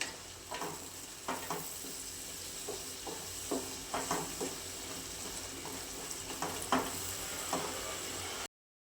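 A masala of black masala, coriander powder, garam masala, turmeric and red chili sautés in oil in a pan, giving a steady close sizzle with repeated spatula scrapes and stirring taps throughout.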